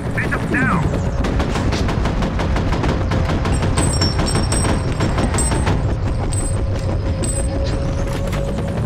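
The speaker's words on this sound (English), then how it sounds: "We're taking fire." Sustained gunfire in the shooter game F.E.A.R., steady loud bursts and booms running throughout, with voices shouting over the battle noise.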